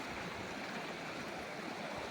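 Steady broadband rush of a river flowing past watercress growing at its edge, continuous and fairly close, with no voices or distinct splashes breaking through.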